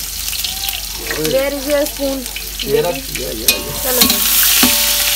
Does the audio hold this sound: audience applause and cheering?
no